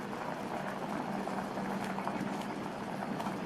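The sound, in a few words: milk boiling with kozhukattai dumplings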